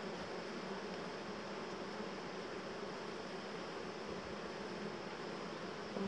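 Honey bees swarm densely around an open hive, a continuous, even buzzing drone heard close up with no pauses and no voices.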